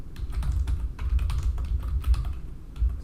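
Rapid typing on a computer keyboard, a close, continuous run of soft key clicks and thumps with brief pauses.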